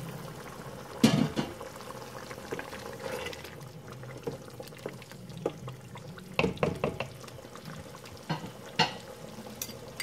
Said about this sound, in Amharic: አሁን የሞቀ ውሃ አለኝ እዚህ ጋ እና ውሃ ጨምርበታለሁ።